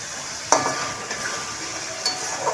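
Small boneless chicken pieces hit a pan of cooked-down spice masala and sizzle steadily and close, with a couple of sharp utensil clinks near the start and end.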